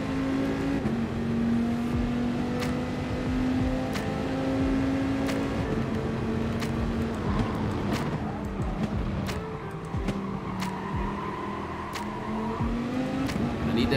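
A race car engine drones and revs steadily while the car slides through corners on the Special Stage Route X circuit in Gran Turismo Sport. The engine pitch rises and falls, and there are faint tire noises.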